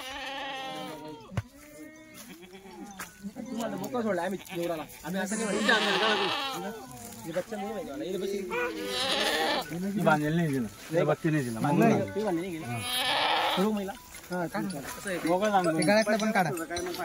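Kathiawari goats, a herd of about 140 to 150, bleat repeatedly over someone talking steadily, several loud wavering calls from nearby tethered animals overlapping his voice.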